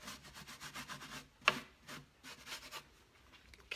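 A washcloth rubs antiquing glaze over a textured surface in a quick series of soft, close scrubbing strokes, with one sharper scuff partway through.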